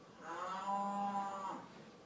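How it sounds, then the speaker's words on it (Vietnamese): One long, steady cow moo sounds close and clear. It rises and holds for over a second, then fades away, with nothing else around it. "Con bò."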